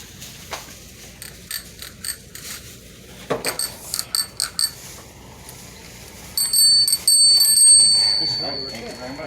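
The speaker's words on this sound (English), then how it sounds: "Oh, look, they got a bell." A bicycle bell rings in a Las Vegas bike shop, a bright ringing near the end that follows a series of clicking, ratcheting mechanical sounds from work on bikes, with faint voices in the room.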